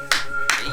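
Two sharp, close claps ring out about a third of a second apart, with a faint tonal hum underneath.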